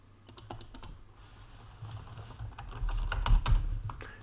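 Someone types on a computer keyboard in a quiet room, with irregular bursts of close key clicks. The keystrokes grow busier and louder toward the end, with no talking.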